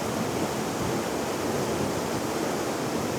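A waterfall in autumn roars steadily throughout, a dense, unbroken rush of falling water close by with no voices or other sounds over it.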